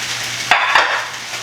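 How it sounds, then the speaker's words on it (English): Food frying in a pan of oil in a home kitchen, a steady sizzle with two brief clacks of a utensil against the pan. "Wait on these to fry."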